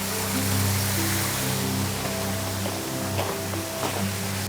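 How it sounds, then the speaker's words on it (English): A small waterfall on a hiking trail splashes in a steady, full rush of water, close by and continuous, with faint tonal hum underneath. "Stumbled across this nice little waterfall."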